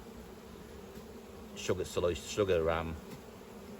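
Bees at an Orara Valley beehive during a sugar shake for varroa mites, making a steady, low buzzing hum throughout, with a person speaking briefly over it midway.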